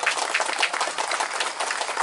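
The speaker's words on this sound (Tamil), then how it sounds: "அவருக்கு ஒரு கைத்தட்டல கொடுங்க." Audience applause for a man named Nisar at a human rights mission event held at a pre-school in Dambulla, Nikawatawana: dense, steady clapping from many hands, sustained throughout without speech.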